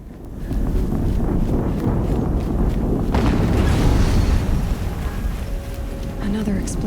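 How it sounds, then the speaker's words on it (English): A deep, rumbling explosion in the Horizon Zero Dawn video game, a loud sustained low roar that swells in the middle and fades, with a rushing windy texture and a voice speaking over it. "Another explosion."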